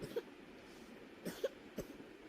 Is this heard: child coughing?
yes